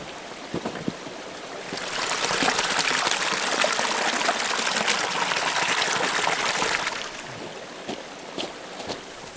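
Water gushes and flows at a wild campsite beside a tarp tent, rising for about five seconds as a full, close rush before dropping back to faint outdoor background.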